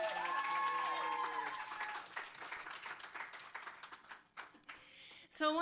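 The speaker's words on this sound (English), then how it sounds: "Please give a big round of applause for Betsy." An audience at a coffeehouse performance applauds for a singer named Betsy, the clapping fading over a few seconds beneath lingering room noise before a voice begins speaking at the end.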